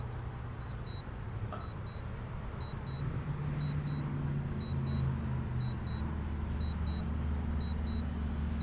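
A drone controller sounds its low-battery warning with short, evenly spaced electronic double beeps that repeat steadily over a low rumble of wind and handling noise outdoors near woods.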